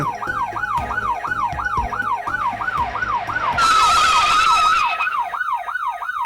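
An ambulance siren in a village drama wails in a fast rising-and-falling cycle, loud and close throughout, briefly joined by a bright high-pitched horn blare in the middle.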